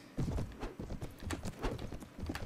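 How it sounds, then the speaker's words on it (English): Horse hooves in the video game Viking Conquest, a steady, slow clip-clop of footfalls at moderate distance, repeating evenly for a couple of seconds without talk. "this horse is so slow"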